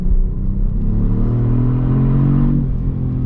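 A 2022 Kia Stinger's 368-horsepower engine revs up loud and close with a steady rising rumble, holding high before dropping off near the end.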